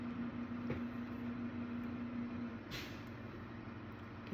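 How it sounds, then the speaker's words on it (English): A steady low garbage truck engine rumble with a faint whine outdoors, then a brief hiss of air brakes, distant and muffled. "You can hear the garbage man out there, the garbage truck."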